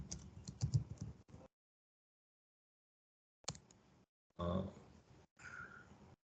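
Bursts of computer keyboard typing while a SQL Server stored procedure is written, clustered keystrokes at moderate level, broken by a long silent pause before two more runs of tapping.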